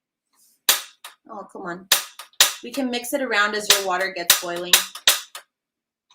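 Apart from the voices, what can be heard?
stove igniter clicking as stove is turned on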